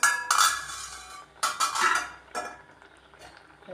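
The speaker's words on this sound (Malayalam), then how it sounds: "അടപ്പ് മാറ്റി കൊടുക്കാം" A lid lifted off a pot of beetroot pachadi with a few sharp metallic clinks and scrapes, loud and close, in three short bursts with quieter handling between.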